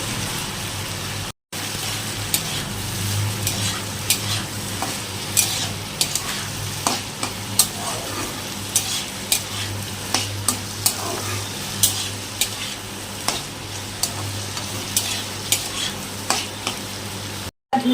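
Onion with salt frying in a pan, a continuous loud sizzle broken by regular scraping stirs of a spatula, close up and rhythmic throughout, with no talking.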